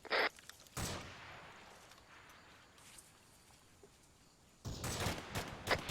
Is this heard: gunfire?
yes